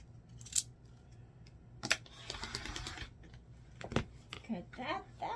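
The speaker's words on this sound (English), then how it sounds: "now I'm just gonna cut these apart" Scissors cutting apart fabric squares sewn right sides together on all four sides, slicing diagonally in short snips: a few sharp nearby cuts spaced over several seconds, with light handling rustle between them.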